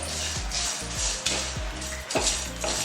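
Spices for a Jain misal being dry-roasted in a pan, with repeated scraping and stirring strokes against the metal over a faint sizzle, close and fairly loud, about five or six strokes in a loose rhythm.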